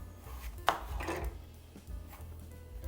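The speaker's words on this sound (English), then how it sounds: "chop your apples into wedges." Kitchen knife cutting apples into wedges on a board: a single crisp chop followed by a softer slicing rasp, close up over a low steady hum.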